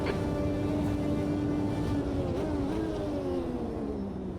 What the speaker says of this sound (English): The engine doesn't sound right, mate.